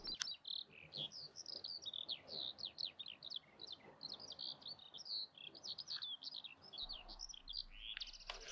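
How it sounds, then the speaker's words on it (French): Eurasian skylark singing a long, rapid, liquid stream of high chirps and trills, continuous and fairly close, with no talk over it. "ça permet de se concentrer sur le chant des oiseaux"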